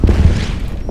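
Units open fire in the Order of Battle strategy game, in a loud, deep burst of booming shots packed into about a second, trailing off into a rumble.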